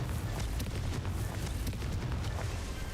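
A Confringo explosive spell blast in Hogwarts Legacy, heard as a dense, loud rumbling burst that stays sustained for the whole stretch with crackling high detail.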